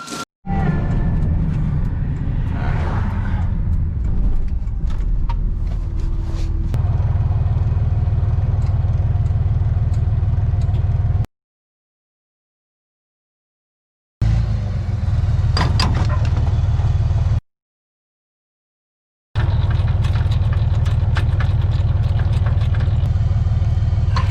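A pickup or similar motor vehicle with a welded trailer hitch pulls away to fetch a trailer, its engine rumbling steadily close by through most of the stretch, broken by two short silent cuts.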